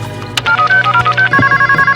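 A telephone redials in a quick string of close electronic tones, then rings with a repeating warbling bell pattern, loud and clear with no voices.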